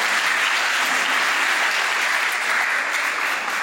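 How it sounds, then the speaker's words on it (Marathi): A hall audience at an abacus convocation claps loudly and steadily for a student being welcomed. Dense applause from many hands fills the full few seconds with no voices. "सगळ्यांनी एक वेळ जोरदार टाळ्या वाजवून अभिराजचं स्वागत केलं"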